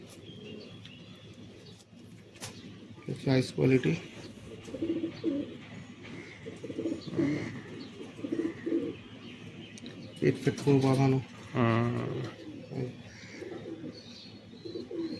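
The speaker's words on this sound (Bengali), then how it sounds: "নর পায়রা এটা।" A male pigeon coos in a loft of fancy pigeons for sale, low repeated calls rising in two clusters over a steady background while someone talks nearby.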